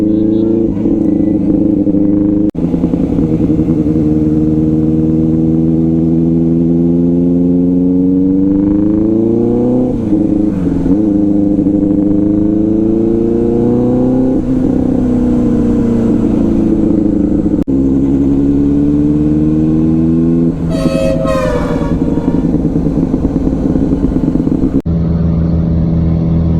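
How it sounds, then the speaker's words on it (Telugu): Bajaj Dominar motorcycle with its exhaust removed, revving hard and loud at close range, its raw engine note climbing and falling through repeated throttle blips across the whole stretch. "చూసింది కదా మన బైక్ది ఎగ్జాస్ట్ తీసేస్తే ఎట్లా వస్తుంది సౌండ్ ఏందనేది."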